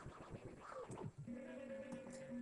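Scratch DSP effect on a Citronic MPCD-S6 CD deck, producing quick jerky back-and-forth warbles that settle into a steady looping tone, moderately loud with no talking.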